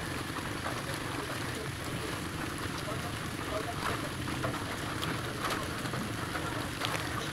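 Heavy rain pouring steadily in a dense, continuous hiss, with a low rumble and occasional splatters close by.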